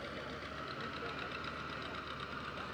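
An antique tractor engine in a watermelon festival parade drones and knocks continuously, with a rhythmic mechanical chugging that stays even and moderately loud throughout.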